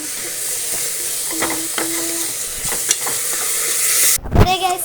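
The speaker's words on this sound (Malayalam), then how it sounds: "ഇനി നല്ലോണം ഇളക്കിയെടുക്കണം." Tomato and onion masala with salt stirred in a hot pan, a constant sizzle and hiss with scraping strokes of the spoon and a louder clatter near the end.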